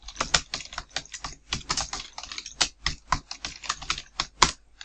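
Numbers are typed on a computer keyboard in a quick, steady stream of crisp, close keystrokes that keep a fairly even rhythm, with no voices.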